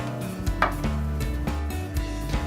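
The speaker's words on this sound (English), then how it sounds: "make sure that you mince it really well and make sure it is nice and broken down" A knife mincing a fibrous herb on a cutting board, rapid rhythmic chops at about four per second, close and clear with no talking.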